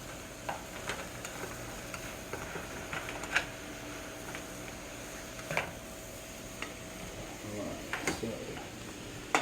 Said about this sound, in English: you want to make sure you move it all around so everything gets that coating on it, the olive oil